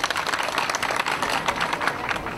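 Crowd applause at an Uhuru Torch race event in North Pemba, a dense continuous patter of many hands clapping at steady loudness for the whole stretch, with no voices standing out.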